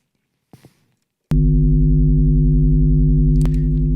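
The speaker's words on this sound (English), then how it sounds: "something that the three-body does with its phase modulation is it creates this big stereo sound" A Schlappi Engineering Three-Body synthesizer module uses phase modulation to build a wide stereo tone. A loud, steady, buzzy sustained drone enters abruptly after a brief faint noise and holds to the end, with a faint click near the close.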